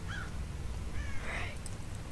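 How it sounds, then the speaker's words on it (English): Crows caw in the stealth video game Thief, one short call near the start and a longer, louder caw midway, over a steady low ambient hum with no talking. "Shut up, birds."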